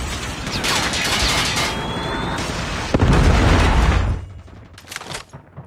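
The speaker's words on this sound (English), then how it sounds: "Predator missile inbound." A predator missile strike in the shooter game Call of Duty, a loud rumbling blast with a heavy boom midway, then the din drops off to a few scattered pops, no talking.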